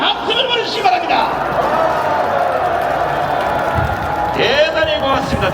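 A large outdoor political rally crowd in Gwanghwamun cheers and applauds in a loud, steady roar, with an amplified voice speaking over the din.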